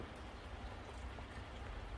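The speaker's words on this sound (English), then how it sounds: "At night in the rain." Steady rain falling at night outdoors, a soft continuous hiss of drops with a low rumble underneath, fairly quiet and even throughout with no voices.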